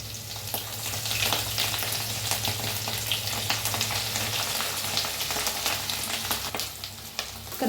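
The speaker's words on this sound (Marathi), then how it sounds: "तर मिक्स करून भाजून घेऊया" Green chili and garlic paste fries in a pan, a steady close sizzle with crackling bursts and occasional stirring scrapes, no talking.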